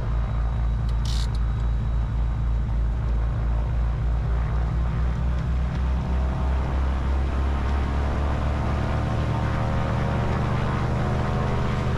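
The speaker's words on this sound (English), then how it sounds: "And now for the run up." Cessna 310 twin-engine aircraft during an engine run-up before departure at Birmingham airport, a loud steady droning rumble that holds constant throughout with a brief click near the start.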